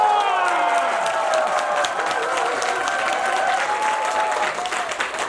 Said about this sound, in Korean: 큰 박수로 한번 환영해 주시기 바랍니다.